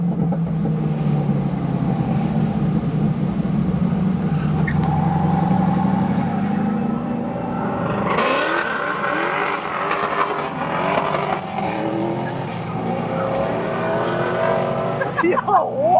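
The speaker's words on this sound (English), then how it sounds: "That is what you call natural burbles." LS V8-swapped BMW E46 rumbling with natural exhaust burbles and crackles, loud and close, engine note rising around the midpoint, with people talking over it.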